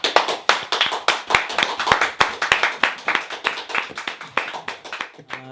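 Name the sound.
slow clap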